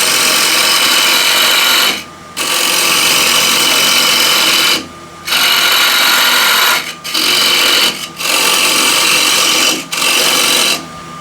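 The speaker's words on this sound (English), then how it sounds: "Now I can remove most of the timber by square cuts" A wooden bowl spinning on a lathe while a scraper takes square cuts from the timber, a loud continuous high whirring and rasp broken by several short pauses as the tool lifts away and returns.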